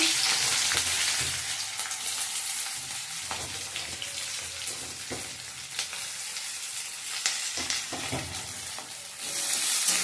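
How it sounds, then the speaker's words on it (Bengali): Onions sizzle steadily in hot oil, browning, a dense crackling hiss with occasional scraping stirs, close up and with no talking. "পেঁয়াজগুলো একটু লাল করে ভেজে নিই।"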